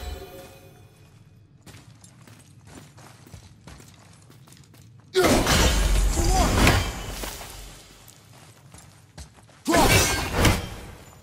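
Objects shattering in the video game God of War: two loud, crashing bursts of breaking debris stand out against quieter creaks and mechanical clatter.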